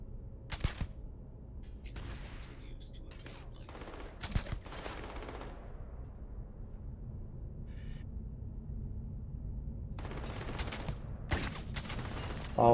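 Sniper rifle shots in a video game, a few sharp loud cracks spaced several seconds apart over a low ambient hum, with a small cluster of further shots near the end.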